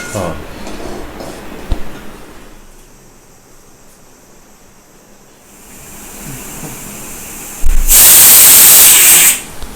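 A pressure cooker on the stove, cooking akkaravadisal with jaggery, lets out a loud, sustained steam whistle near the end, after a stretch of low background rumble and hiss.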